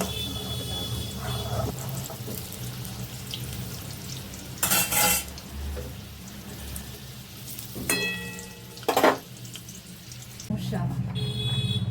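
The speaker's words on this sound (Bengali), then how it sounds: "লাল লাল করে একটু ভেজে নেবো।" Chicken frying in oil in a kitchen, with a steady low sizzle and short bursts of louder hissing and utensil stirring spread through the clip.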